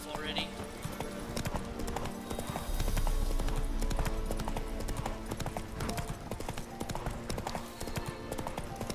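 Roach the horse in The Witcher 3 trots with steady clip-clop hoof beats, a brief whinny early on, under game music and ambience while a voice speaks over it.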